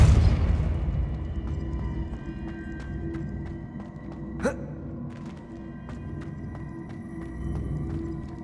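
Accio and Depulso spell effects in the Hogwarts Legacy video game: a dense, layered magical wash with one sharp whooshing burst near the middle, over a continuous bed of game sound and music.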